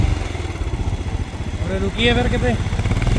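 A motorcycle engine idles in Leh, a steady low chugging throb, while people talk over it at close range.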